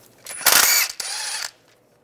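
Ratchet with a 15 mm socket turning a bottom transmission bolt on a 2007-2013 Chevy Silverado: two loud, close bursts of rapid ratcheting clicks, the first longer, with a short pause between.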